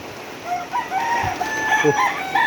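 Rain-soaked chickens cluck and call nearby in short, overlapping bursts over a soft background hiss of heavy rain at a chicken farm.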